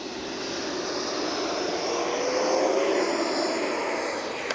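An FMS Avanti S 90mm RC jet taking off, its ducted-fan whine building into a steady rushing roar with a rising tone passing nearby, loud and alone.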